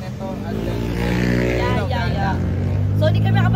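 Busy street traffic in Thailand, a steady loud wash of car and motorbike engines rumbling close by, continuous through the whole stretch with a mix of background voices.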